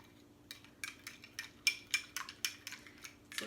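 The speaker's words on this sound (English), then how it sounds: "And then we stir it up." Utensil stirring a food colouring mixture in a small dish, a series of light clinks and scrapes about twice a second, close but quiet against a faint hum.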